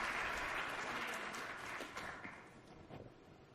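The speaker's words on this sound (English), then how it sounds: "Let's give them a round of applause." An audience at a summit panel session applauds the panelists, a dense wash of clapping that starts full and gradually thins and fades over a few seconds.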